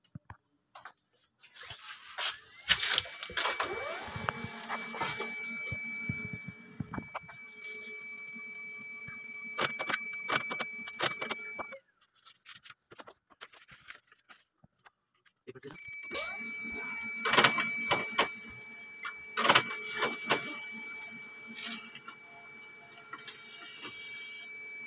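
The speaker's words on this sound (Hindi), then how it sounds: "हम प्रिंट टेस्ट दे रहे हैं यहाँ पे।" A Samsung laser printer with a black-page fault runs a test page, giving off mechanical clicks, ticks and whirring with a steady tonal hum. The sound comes in two bursts separated by a brief pause, and a voice is heard faintly.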